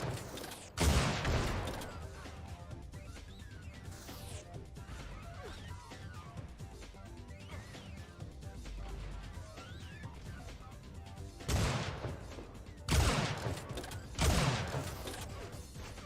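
Gunfire in an Unreal Tournament 4 duel match: sharp loud bursts near the start and again late, several close together, with quieter mechanical clatter and whooshes between them.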